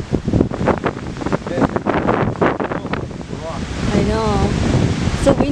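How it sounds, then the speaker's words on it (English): Strong wind buffets the microphone with roaring gusts while people talk outdoors near a cliff at Salt Creek Falls, Oregon, their voices partly drowned by the rushing noise. "So windy too."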